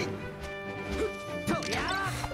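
Super Smash Bros Melee up smash attacks land with sharp crashing whacks over tonal game music and swooping sound effects, a few hits in quick succession.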